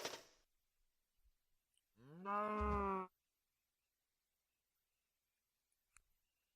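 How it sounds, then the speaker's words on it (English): A single cow moo from a cow spawner in a Minecraft modpack, a short, loud, voiced call with no talk over it, surrounded by near-silence and a few faint clicks. "Get ourselves some cows."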